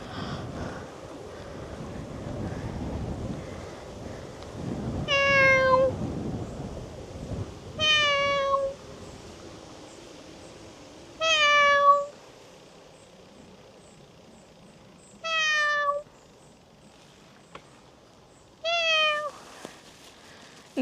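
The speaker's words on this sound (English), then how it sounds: "Alright, this tiny cat is scared." A small, frightened cat meows five times at spaced intervals, each a short rising-then-falling call, clear and fairly close over outdoor wind rumble.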